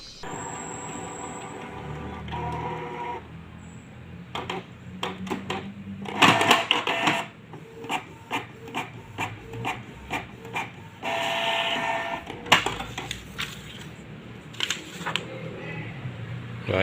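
Office printer printing a Microsoft Word document: mechanical whirring and feed noise, then a run of rapid clicks and rubbing paper-handling sounds, fairly close and moderate in level, with no talk.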